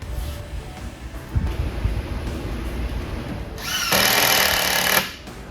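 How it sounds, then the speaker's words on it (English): An impact driver runs screws in brief bursts of rattling, hammering power-tool noise, ending with a loud, bright stretch of driving near the end; no talking. "we are going to run our screws"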